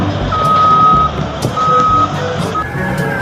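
A toy sand truck repeats its reversing beeper, a steady high tone sounding in three beeps with pauses between them. Light clatter and handling noise play alongside, and no one talks.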